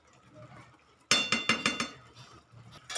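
Metal lid set back onto a cooking pot while making Gujarati wheat-flour lapsi, a sharp clang followed by a quick series of ringing rattles as it settles, then a quiet pause and another clink.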